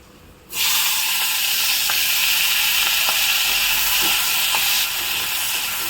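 Chopped vegetables tipped into hot oil in a wok set off a sudden, loud, steady sizzling hiss that holds for several seconds before easing slightly, close and unbroken.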